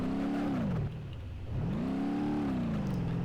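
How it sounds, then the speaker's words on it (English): Car in the BeamNG Drive video game driving on a flat tire, its engine droning and revving up and down in smooth swells, with a brief dip before climbing again, steady and close with no talk. "I have a flat tire."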